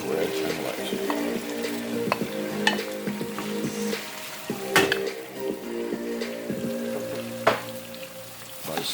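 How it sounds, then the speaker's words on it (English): Red and white onions sauté in oil in a pan, giving a steady crackling sizzle broken by occasional sharp clinks and stirring taps. A low hum runs through the background. "By sauteing it in the oil, I'm able to get the flavor of the onions"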